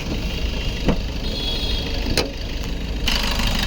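A 2019 Maruti Swift VDI diesel engine idles with a steady, even clatter, heard up close, with a couple of brief clicks and a slight rise in level near the end.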